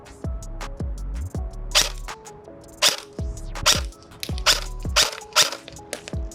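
A KWA EVE-ICE Special Edition airsoft rifle with a 4-inch barrel and muzzle brake fires a series of sharp, snappy shots, each a crisp close crack, spaced irregularly about half a second to a second apart.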